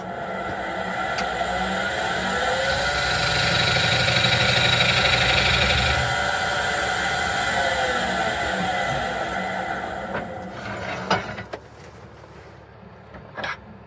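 A wood lathe spins a bowl blank with handles at low speed, giving a steady motor hum and rumbling vibration that swells and fades, then winds down with a few knocks near the end.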